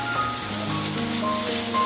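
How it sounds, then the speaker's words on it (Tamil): Onion and tomato sautéing in masala in a pan for a Tamil-style fire chicken dish: a steady, even sizzle and hiss that holds without a break, close by, with a faint background hum. "வெங்காயம் தக்காளி நல்லா வதங்கட்டும்."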